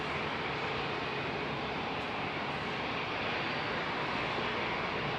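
Finnair jet airliners at Heathrow airport produce a continuous, loud, broadband engine roar that stays steady and close throughout with no talk.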